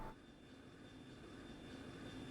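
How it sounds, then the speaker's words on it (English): A low, steady drone of a Royal Army airship engine as the vessel comes in to land in the video game Trails in the Sky SC. It holds evenly for a couple of seconds, faint and rumbling with no talk. "I don't think I've heard this engine sound before."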